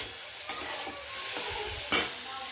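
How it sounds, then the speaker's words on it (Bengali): Potato and bitter gourd frying in a pan, a soft steady sizzle close by with two sharp stirring clanks, one early and one louder near the end. "এখানে আলু উচ্ছটা ভেজে নিচ্ছে"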